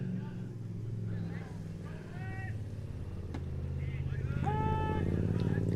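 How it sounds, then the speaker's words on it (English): A nearby motorbike engine hums steadily and rises in pitch during a state league baseball game, with people talking over it throughout. "What is that noise? Oh, it's that motorbike."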